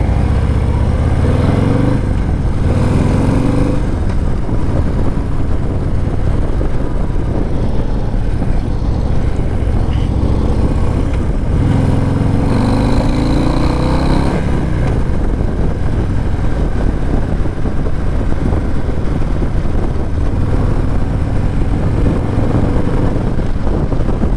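A 2024 Harley-Davidson Low Rider S FXLRS engine rumbles steadily while riding, deep exhaust note rising and falling with throttle, mixed with constant wind noise.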